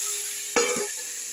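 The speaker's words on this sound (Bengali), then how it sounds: "ফুলকপিটা দিয়ে একটু নেড়ে নেড়ে এইভাবে ফুলকপিটা একটু ভেজে নেব" Cauliflower pieces fry in hot oil in a pan for a Bengali rui fish curry, with one sharp sizzling burst and a stirring scrape rising over a low background hiss.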